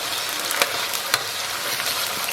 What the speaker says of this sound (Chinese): 咱们给里边来勺豆瓣酱，然后来勺辣椒酱，给它小火炒出红油。